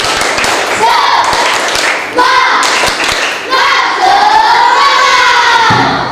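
A classroom of schoolchildren performs a rhythmic tepuk semangat clapping chant, loud hand claps and taps in a steady pattern mixed with their shouted chanting voices, close and filling the room.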